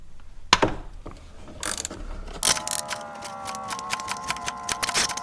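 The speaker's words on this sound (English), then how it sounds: "Next, use your spark plug socket." A ratchet with a spark plug socket loosening a spark plug on a BMW X engine, a few loose clicks followed by a rapid, steady run of close ratcheting clicks.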